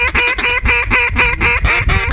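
Hunters blow duck calls at ducks flying overhead, producing a loud, rapid run of about nine close quacking notes in steady rhythm.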